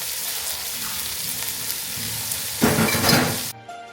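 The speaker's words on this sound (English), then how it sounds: "I'm just giving this a quick stir" Seasoned food sizzles in a pan in a home kitchen while it is stirred, a steady crackling fry with a louder burst of scraping and stirring near the end.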